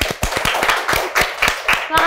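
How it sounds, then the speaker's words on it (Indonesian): A few people clap in a quick, fairly close rhythm on a casual talk show, with voices murmuring faintly underneath. "kita buat tepuk tangan dulu."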